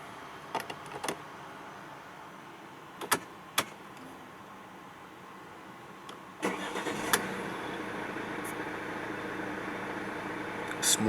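A 2013 Mercedes-Benz E 220 CDI SE diesel starts after a few sharp clicks and chimes, catching with a brief crank and settling into a steady, smooth idle close by.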